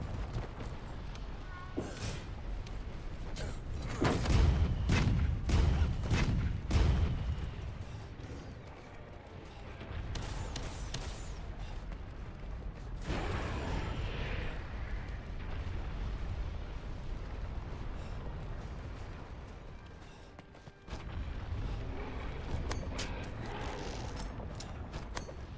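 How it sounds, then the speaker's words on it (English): Cannon blasts fire during a monster hunt in Monster Hunter World: Iceborne, heavy booming bursts clustered early over a constant battle din, with a louder rumbling stretch mid-clip and game noise throughout. "We get one more cannon blast, and then I'll go do the binder."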